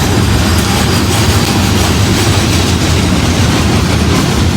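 A freight train with distributed power locomotives rolls along a town's main street, a loud, continuous rumble of wheels and cars passing close by without a break.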